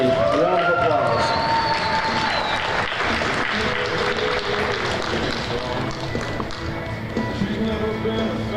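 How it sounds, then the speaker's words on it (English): Sustained audience applause fills the arena for a contestant at the 2023 Fiesta Days Rodeo Queen Competition, dense and steady throughout with a voice speaking over it. "Let's give Miriam Brophy a round of applause."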